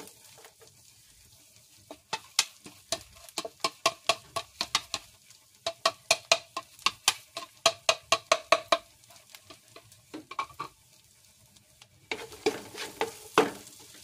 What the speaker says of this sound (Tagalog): So, ilagay ko na yung aking garlic, guys.